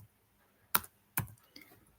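A few separate keystrokes on a computer keyboard while code is being typed, sounding as two sharp, close clicks and then a softer tap in otherwise quiet surroundings.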